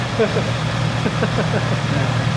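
Honda CB650R motorcycle engine idling during a 10,000 km service, a steady low, even hum with a faint rhythmic pulse throughout, running close by under background noise.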